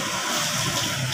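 Water gushing steadily from a tap or hose while goats are being bathed, a close, continuous splashing rush with no break.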